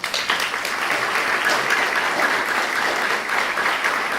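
An audience claps steadily to welcome Rabbi Richard Green at a community event on Israel, dense applause that starts abruptly and holds at an even level, close and alone.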